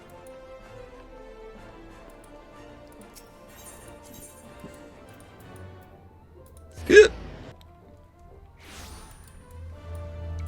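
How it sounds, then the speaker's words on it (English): A single sharp hiccup from a character in Final Fantasy XIV: A Realm Reborn, a brief loud burst standing out midway over a quiet game backdrop of ambient music. "Hashtag hiccups."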